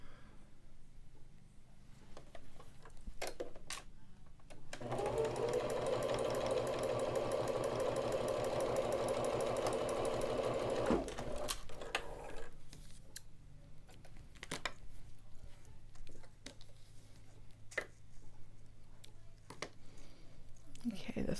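Home sewing machine stitching a dart on a cloth face mask, running steadily for about six seconds with a dense mechanical whir, bracketed by handling clicks and light rustling before and after.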